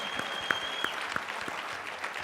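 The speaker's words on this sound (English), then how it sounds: "can we give Wendell a round of applause" Audience applause at a coaching group panel event, a steady spread of many people clapping with a few sharper claps standing out near the front, moderately loud and continuous.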